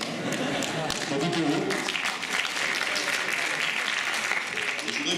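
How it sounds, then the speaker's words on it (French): Audience applause fills a hall at the final of a student eloquence contest at a business school in Reims, dense steady clapping throughout, with voices mixed in under it. "Je voudrais que vous applaudissiez Gérard Chemla"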